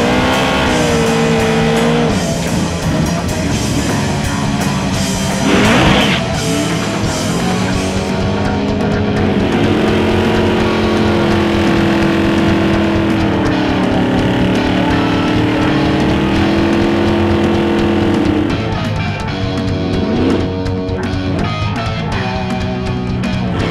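A fast rear-wheel-drive drag racing car roars loudly and continuously, its engine pitch climbing and shifting through gears, with brief tire squeal near the start.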